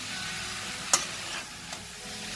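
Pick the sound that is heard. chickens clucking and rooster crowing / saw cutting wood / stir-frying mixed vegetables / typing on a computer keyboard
stir-frying mixed vegetables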